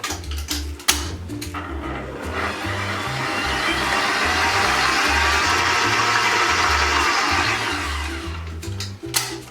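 Electric mixer whirring through cake batter for a final mix, a steady close drone that swells for several seconds and then stops, with clatter at the start and end.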